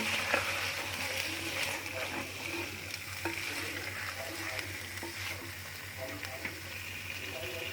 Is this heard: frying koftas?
yes